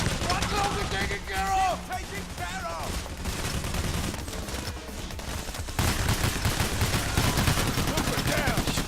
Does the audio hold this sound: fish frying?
no